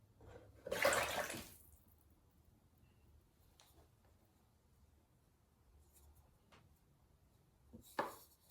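Liquid glaze pours quickly out of a ceramic lidded jar in one brief, splashy gush, followed by quiet with faint drips and handling taps, then another short splash.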